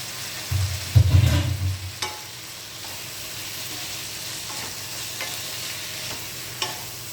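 Shrimp, eggplant and boiled arbi being stirred together in a frying pan. A brief burst of low clattering and sizzle comes first, then a steady quiet frying hiss with a few light spoon scrapes, alone with no talk.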